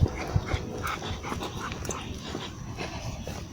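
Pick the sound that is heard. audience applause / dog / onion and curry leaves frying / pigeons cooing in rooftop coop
dog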